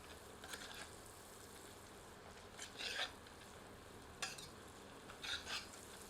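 Onions fry in a pan with turmeric and salt added, giving a faint, steady sizzle broken by a few short bursts of spoon scraping and stirring.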